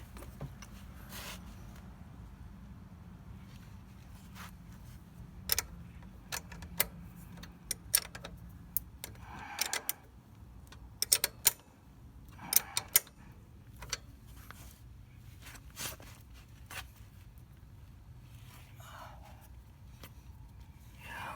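A box wrench works a 12mm nut on the rear wheel of a C125 SuperCub motorcycle, giving scattered sharp metallic clicks and ticks in irregular bursts over a low background hum, with no talk.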